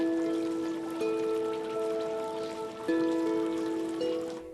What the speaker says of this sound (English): listen to the relaxing sounds of a waterfall